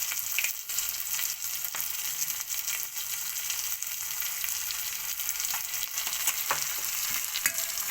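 Tomatoes frying in a pan for mung dal, a steady bright sizzle with faint scattered crackles and occasional stirring clicks, close and even throughout, no talking.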